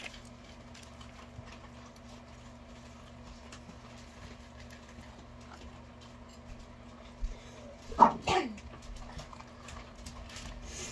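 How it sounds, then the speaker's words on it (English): A low engine hum idles throughout, then a short burst of barking breaks out near the end. "No fighting, no barking."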